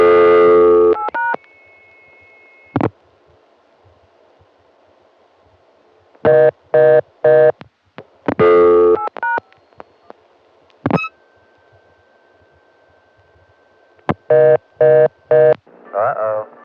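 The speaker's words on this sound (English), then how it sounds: "That reorder tone is coming from the dimension, meaning that the trunks over to the step are all used up" A Dimension PBX telephone line from 1981 gives a fast reorder tone in clusters of short, loud beeps. Steady dial tones and quick dialing beeps separate the bursts, with stretches of near silence between them.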